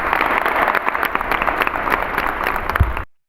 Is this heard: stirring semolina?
no